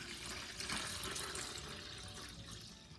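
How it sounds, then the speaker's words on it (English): Cold water pours into a pitcher for sweet iced tea with lemon juice, a soft, continuous splashing rush that stays fairly quiet and gradually tapers off, with no talking. "8 cups of cold water."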